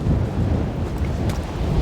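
Strong wind buffets the microphone on a coastal clifftop above the ocean, a loud, steady low roar with gusting rumble and no voices.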